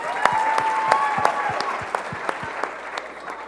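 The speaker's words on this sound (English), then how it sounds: "Give her a hand of applause" An audience claps for a few seconds at a student sewing presentation, scattered individual claps standing out over a softer backdrop of applause.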